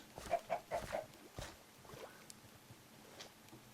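A few quick soft clucks from Minecraft chickens, four short calls in a row, then quieter scattered background sounds.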